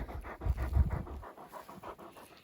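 A herding dog pants rapidly and heavily up close, quick rhythmic breaths, louder at first then softer and lighter.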